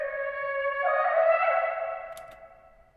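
A pitched-down flute lick sample for a trap beat plays as a sustained, breathy melodic line with echo, swelling and then fading out alone, with no voice.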